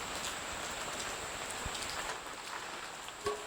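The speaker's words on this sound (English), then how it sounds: "Listen to the rain." Steady rain pours down in a continuous hiss at a mountaintop park in Japan, with a few heavier drops tapping nearby and no voices.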